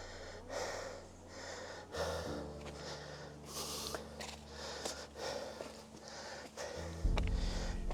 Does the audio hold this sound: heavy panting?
yes